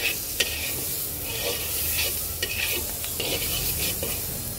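Spice masala with coriander powder being sautéed for egg curry, a continuous close sizzle with repeated spatula scrapes and stirring strokes against the pan.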